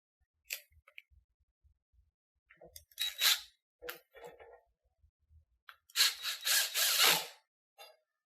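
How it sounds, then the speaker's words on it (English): A bolt is tightened through a handle into the rod of a 48-inch foosball table, giving a few quiet clicking and ratcheting bursts with a longer, louder run of turning near the end, in a quiet room. "Insert your bolt and tighten."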